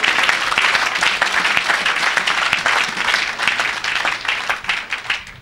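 A church congregation applauds for Jesus during worship, loud dense clapping from many hands that carries on steadily throughout and eases slightly toward the end.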